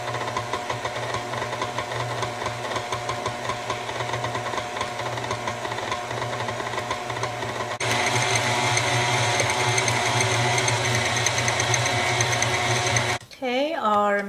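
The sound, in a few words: electric mixer mixing flour dough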